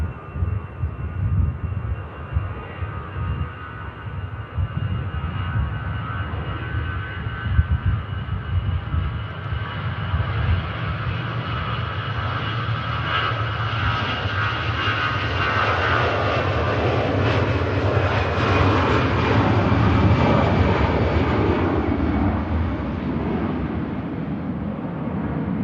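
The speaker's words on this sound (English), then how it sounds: "Aer Lingus 320 is next to go on the return" An Aer Lingus Airbus A320 takes off at Manchester Airport in wet weather, its jet engines building into a loud, broad roar that holds steady and then slowly fades into the distance.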